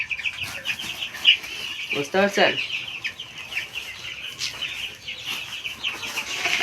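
Chickens cluck and squawk close by on a poultry farm, a steady chorus with one louder run of rapid clucks, while a person speaks intermittently over them.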